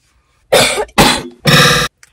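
Three loud, harsh coughs come in quick succession, close to the microphone, from a person after smoking a blunt, with brief silent gaps between them.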